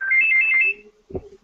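A phone ringtone rings loud and near, a bright electronic chime phrase that cuts off after a moment and leaves a short low murmur behind it.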